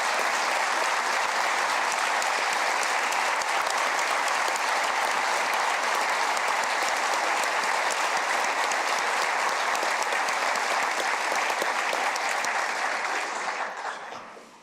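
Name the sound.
applause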